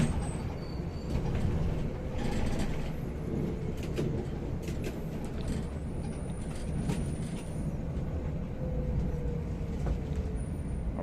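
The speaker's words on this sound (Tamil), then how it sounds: "Volvo 9600 வந்து ஒரு 15 மீட்டர் வண்டி லென்த்து." A Volvo 9600 coach, a 15-metre bus, makes a smooth sharp turn with a steady low engine rumble. Faint hisses and a thin whine sit over the rumble, and no one speaks.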